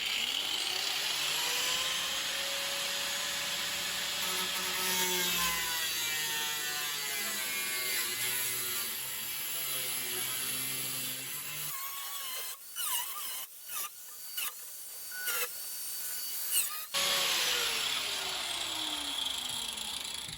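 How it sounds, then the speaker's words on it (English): A power tool cuts away rusted metal from a car's wheel arch, a loud, harsh grinding whine that holds steady, breaks into short bursts around the middle, then resumes at full roar, close up with no speech. "Now I'm just going to cut away the rot here. Cut away the rust."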